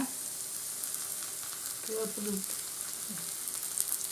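Plantain slices shallow-frying in oil in a pan produce a steady, even sizzle throughout, fairly quiet, with a faint stir or knock in the middle and no talking.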